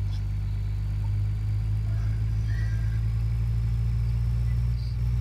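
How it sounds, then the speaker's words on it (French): A car engine hums steadily and loudly nearby on a rural road in Belgium, a continuous low drone with no talking. "il y a de la voiture hein, qui passe"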